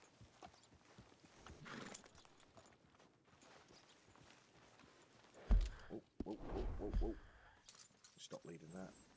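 Hooves clip-clop in an uneven walking rhythm in a RedM video game, with a jingle of tack and some louder clattering bursts, while a person talks over it.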